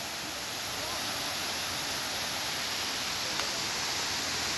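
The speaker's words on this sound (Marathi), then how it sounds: "तर गाईज हा आहे तो वॉटरफॉल" A waterfall tumbling over rocks, a constant broad hiss and rush of falling water, close and even throughout, with a brief faint knock near the end.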